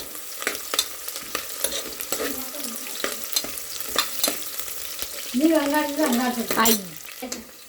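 Onions frying in a pan for chicken biryani, stirred with steady scraping strokes over a constant sizzle, close and fairly loud, with a short burst of voice partway through.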